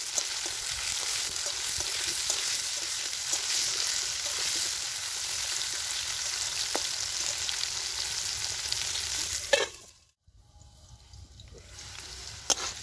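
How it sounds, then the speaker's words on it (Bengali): Kohlrabi pieces frying in a pan with salt and turmeric, a steady hissing sizzle with occasional stirring taps, cut short by a sudden quiet gap before the sizzle returns faintly. "দেখুন ভাজতে ভাজতে সুন্দর একটা নরম হয়ে গেছে"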